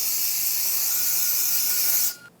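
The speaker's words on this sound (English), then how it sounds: "Take a little brake parts cleaner and just clean this area" A steady, close hiss of brake parts cleaner sprayed onto the front brake of a 2014-2023 Jeep Cherokee, running continuously for about two seconds before cutting off abruptly.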